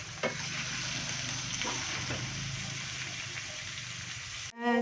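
Pork bopis sautéing in a pan with garlic and onion, a continuous close sizzle with light stirring scrapes, cut off abruptly near the end by a short louder sound.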